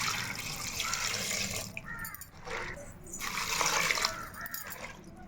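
Water poured into leafy greens in a cooking pot, splashing and trickling in uneven bursts with brief pauses, close and fairly quiet.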